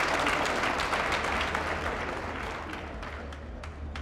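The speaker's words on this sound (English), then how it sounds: "So, you can clap hands for that because that's very important." An audience at an event claps in sustained dense applause, loud and even at first and tapering slightly toward the end.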